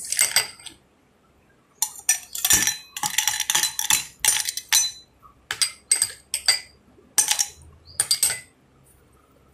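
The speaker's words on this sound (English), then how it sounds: "With this, I'm adding ice cubes." Ice cubes drop into a glass of lemon mint mojito in a series of close, bright clinks and clatters, arriving in several quick bursts with short pauses between them.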